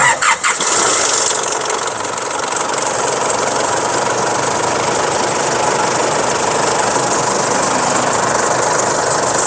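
The 3.0-litre turbo diesel engine of a 2009 Isuzu D-Max Hi-Lander pickup cranks briefly and catches, then settles into a steady, loud idle that rumbles on without a break.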